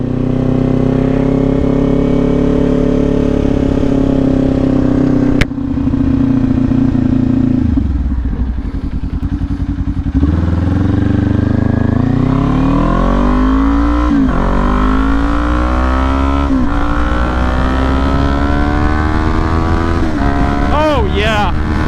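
A motorcycle with a new clutch spring pulls away as the clutch is released, its engine droning loud and close, then revving up through rising pitch sweeps and gear changes, climbing toward high RPM.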